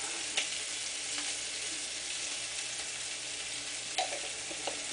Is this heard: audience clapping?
no